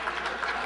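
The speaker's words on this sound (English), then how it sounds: "I thought you'd never clap." Audience clapping during a debate between Christopher Hitchens and Al Sharpton, a brief steady wash of applause from a hall, fairly faint and diffuse with no distinct individual claps.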